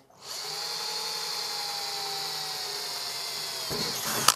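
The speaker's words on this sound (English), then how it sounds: "I'm going to drill through from the wood into the metal as well." A power drill whines steadily for about four seconds, close and loud, boring through wood into metal inside a VW Crafter van conversion, its pitch holding even, then it cuts off with a brief clatter at the end.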